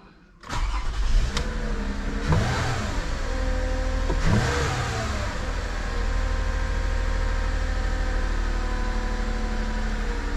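A 2008 Toyota Aurion engine with its engine light on cranks and catches, then revs up twice in quick surges before settling into a steady, loud idle.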